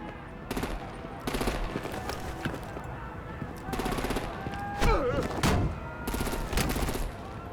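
Gunfire in the video game Batman: The Enemy Within, with repeated bursts of automatic fire at fairly close range, scattered shouting and movement in between, and a voice speaking through part of it.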